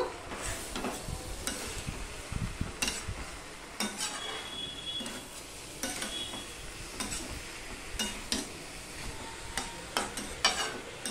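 Cabbage and a fish head being stirred while frying in a pan: a spoon scrapes and clinks against the metal repeatedly over a steady soft sizzle, close up with no talking.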